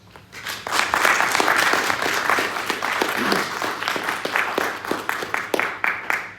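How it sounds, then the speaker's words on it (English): An assembly audience at a journalists' association general assembly breaks into a big round of applause, loud and steady, then thinning into scattered individual claps toward the end. "giving all of them who are here in a way a big round of applause."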